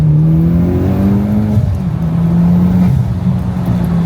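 A Mitsubishi Lancer Evolution X accelerating hard, its engine note climbing through the revs with a shift partway through, loud and close from inside the car, with no talking over it.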